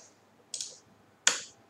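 Two sharp, isolated clicks sound on a computer keyboard, spaced less than a second apart, close and dry with nothing else behind them.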